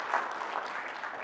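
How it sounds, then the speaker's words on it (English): A conference audience claps at a game industry event, a dense burst of applause that stays even and fills the short moment without any talk. "That applause is for Timony."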